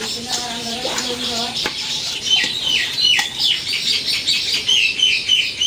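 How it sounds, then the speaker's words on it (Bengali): Birds, including weaver birds around palm trees, chirp and call as rain eases in a rural village, with clucking fowl-like calls at first and then a dense, steady chorus of high chirps close by. "বৃষ্টি একটু কমছে, পাখিরা আনন্দ করতেছে। পাখির কিচিমিচি।"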